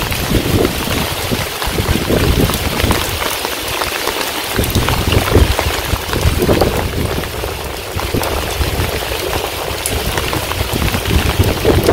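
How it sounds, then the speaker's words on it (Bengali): Heavy rain pouring down in a Bangladeshi village near boats, a loud, steady, unbroken hiss of drops drumming on surfaces, close and constant throughout with no voices. "অনেক শব্দ হইতেছে বৃষ্টির"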